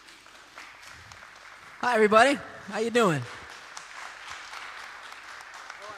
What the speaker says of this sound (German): Applaus für John.